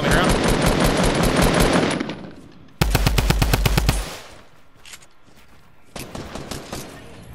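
Bursts of rapid automatic gunfire in the video game Fortnite, a long loud volley followed by a sharper close burst and a later rattle, with brief quieter gaps between.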